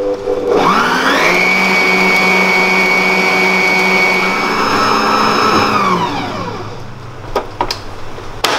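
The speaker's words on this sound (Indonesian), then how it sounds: "Masukkan telur. Lanjutkan, kita kocok lagi." An electric mixer beats eggs for roll cake batter with a loud, steady motor whine that runs for several seconds, then winds down, leaving a few clinks and knocks.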